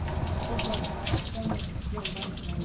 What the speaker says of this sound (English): you can tell one of them hasn't filled up properly when you get that gush of air come out